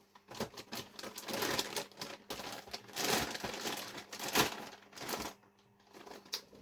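Plastic packaging crinkles and crackles as an RC car body, said to fit a Stampede, is unwrapped, with close, irregular bursts of rustling separated by brief pauses.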